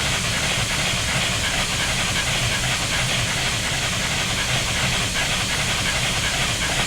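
A Union Pacific FEF-3 steam locomotive in Train Simulator 2015 gives off a constant, loud hiss and rushing roar that holds steady without a break and carries no talk.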